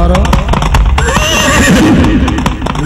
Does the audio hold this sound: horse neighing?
yes